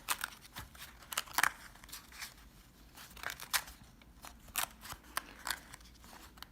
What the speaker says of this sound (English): I'm just taking that tab and I'm folding it back and forth